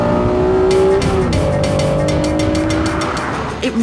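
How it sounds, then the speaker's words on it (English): A 2005 Honda NSX's high-revving mid-mounted 3-litre V6 engine screams close by, climbing and dropping in pitch with sharp throttle blips and a brief squeal near the end. "a mid-mounted engine for optimum balance, and oh, what an engine!"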